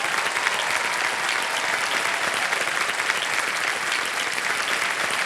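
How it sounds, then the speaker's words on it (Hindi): Studio audience on a televised quiz show, Kaun Banega Crorepati, applauds a winning contestant, loud even clapping sustained throughout the short stretch with no talk over it. "तालियां बजती रहे जोर से।"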